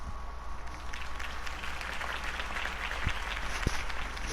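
Steady crowd applause in a speech hall after Harvey Dent's campaign address, a dense wash of clapping at even volume with no voices standing out.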